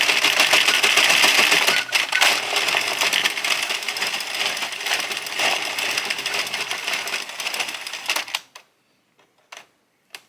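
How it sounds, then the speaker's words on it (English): An Addi King circular knitting machine is cranked steadily, giving a dense, rapid mechanical clatter for about eight seconds. It then stops, leaving a few faint clicks at the end. "keep cranking until your piece falls off of your machine"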